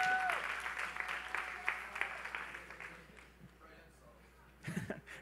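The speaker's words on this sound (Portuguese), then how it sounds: "Vamos aplaudir, então, para o Leandrinho desencalhar" Applause from a church audience, moderately loud for most of the span, then fading out. A brief vocal shout breaks in near the end.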